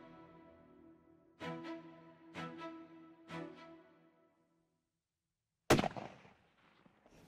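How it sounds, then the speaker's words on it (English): A single rifle shot fired at a buck while deer hunting, a sharp, loud crack with a brief echo tail that breaks a quiet stretch after several hollow knocking sounds. "After I took the shot, we watched it for a little while."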